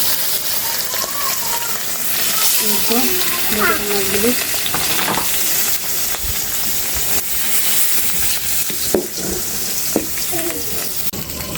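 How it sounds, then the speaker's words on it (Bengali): Rui fish fries in hot oil on a clay stove, giving a continuous close sizzle with occasional stirring clatter and faint voices underneath. "এই তো তেলটা গরম হয়ে গেছে, এখন মাছগুলো সুন্দর করে ভেজে নেব।"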